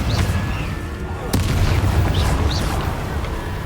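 Confringo fire spell in the game Hogwarts Legacy, heard as a single sharp blast followed by a rumbling, crackling burst of explosion noise against busy game ambience.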